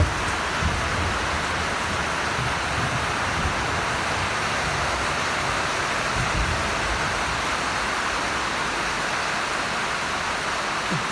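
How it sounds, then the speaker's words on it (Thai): Steady rain falls with water running and flowing nearby, a constant broadband wash of noise at even loudness throughout, with low rumbling thumps underneath and no voices. "น้ำไหลน้ำไหล"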